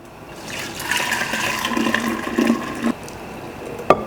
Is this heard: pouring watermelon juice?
yes